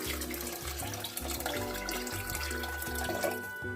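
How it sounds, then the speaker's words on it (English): Water pours steadily from a faucet or container into a pot of pinto beans, a continuous splashing gurgle close by with shifting pitch as the pot fills. "Next up is our water. So I'm gonna do probably 4 cups of water."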